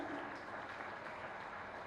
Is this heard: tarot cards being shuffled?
no